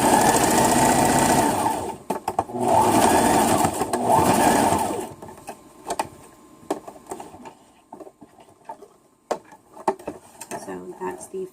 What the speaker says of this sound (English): that part goes underneath my presser foot goes down, needle goes down, we're going to go all the way to that fold.